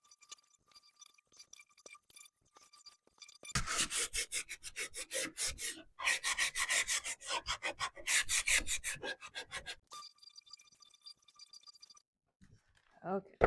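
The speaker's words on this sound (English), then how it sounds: "I'm going to just distress it a little bit" Sanding to distress a green-painted piece of furniture, two coats of paint rubbed back by hand: steady rhythmic rasping strokes in two bursts of roughly six and four seconds, close and fairly loud, with quiet gaps and small clinks around them.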